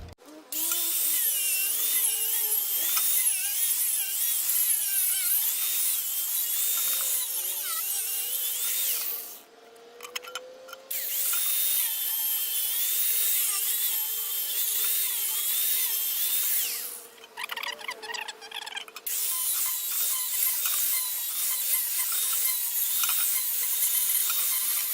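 A power tool cutting fiberglass on a silicone skin mould whines loud and close almost without a break for the whole stretch, stopping briefly twice with short rattling bursts around each pause.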